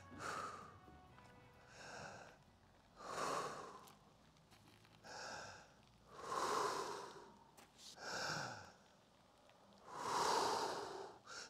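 A horse breathes slowly and steadily while being saddled and cinched, with about seven soft, airy exhalations coming at regular intervals, close and fairly quiet.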